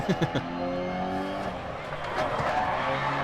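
High-pitched brake squeal with tonal whines over a racing car engine in the rally video game Dirt Rally, several squeaks early, then shifting tones as the vehicle slows and accelerates.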